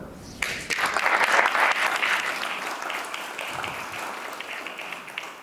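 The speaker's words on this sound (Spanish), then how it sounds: "Un aplauso por él." Applause from an audience at an awards ceremony for San Isidro 2025 honorees, a loud, dense burst of many hands clapping that swells early and then holds steady, slowly thinning toward the end.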